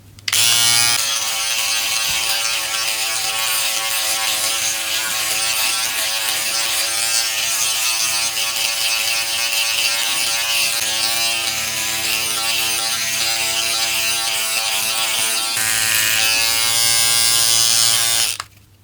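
A Philips BodyGroom Series 5000 trimmer runs with no comb attached while shaving an armpit, giving a loud, steady electric buzz that holds for most of the clip, with slight tonal wavering as the blade moves over skin.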